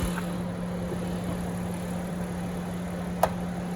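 A 2020 Honda Odyssey Elite minivan idles smoothly with a steady low hum close by, broken only by one brief click near the end.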